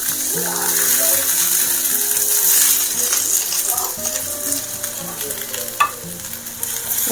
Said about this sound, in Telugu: ఇది ఆనియన్స్ మంచిగా మగ్గనివ్వాలి